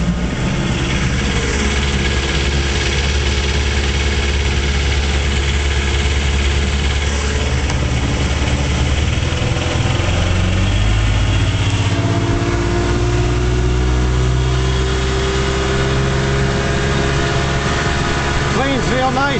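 A 1956 Johnson Javelin 30HP outboard motor idles on a 14-foot Viking fiberglass runabout, a loud, continuous engine drone with shifting pitch partway through. Voices can be heard over it.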